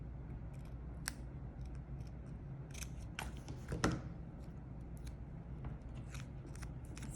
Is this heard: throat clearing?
no